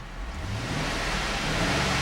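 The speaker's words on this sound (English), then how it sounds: "I'm going to rev the engine." A 5.3-liter V8 engine in a 2007 Chevrolet Suburban LTZ 4WD runs with a steady, broad roar that swells slightly as it's revved, heard close with no talking.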